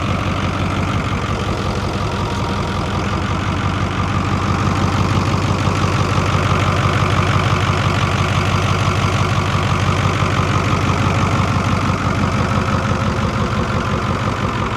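A Ford D1000 truck's Cummins V8 diesel idling nearby, a loud, steady low rumble with a fast even chug that holds constant, no voices.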